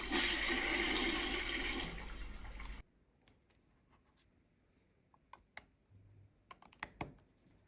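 A toilet flush rushes loudly for almost three seconds, then stops abruptly, followed by faint scattered clicks and taps of LEGO bricks being handled in a small bathroom build.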